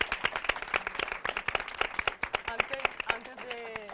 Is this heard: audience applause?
yes